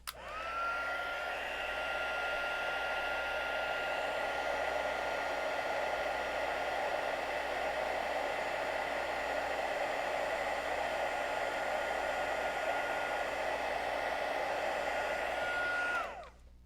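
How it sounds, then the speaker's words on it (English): A heat gun blows on embossing powder on a birthday card, a loud continuous whooshing roar that starts abruptly, holds steady for about sixteen seconds, then cuts off. "And then heat gun it again."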